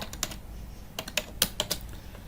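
Close-up typing on a computer keyboard: about a dozen crisp key clicks in an uneven rhythm, some in quick pairs, over quiet room hum.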